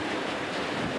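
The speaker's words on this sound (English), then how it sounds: "Look at this rain and wind and water coming across here." Hurricane Wilma's wind and rain rushing across an open area in Plantation Acres, a loud continuous roar of gusts and water that cuts off abruptly at the end.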